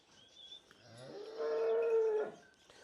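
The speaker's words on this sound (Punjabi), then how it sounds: "ਵੱਡੇ ਕੱਦ ਦੀ ਮੋਨੀ ਗਾਂ ਹੈ" A large polled cow, recently calved with her young calf nearby on a dairy farm, gives a single drawn-out moo up close, rising and holding for about a second before stopping, with quiet farmyard background.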